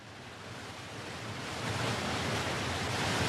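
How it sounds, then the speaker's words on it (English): Steady broadband roar of a waterfall pouring down over a big rock, a dense continuous rush that swells slightly louder partway through, with no voices. "And this is a waterfall. The water is falling down over a big rock."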